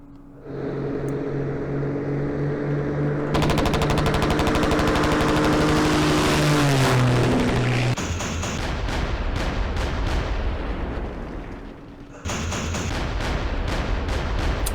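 Helicopter gunship in a Vietnam War strategy game: a steady rotor drone, then loud continuous rapid firing and clattering bursts, a short lull, and another volley of gunfire, with no talking.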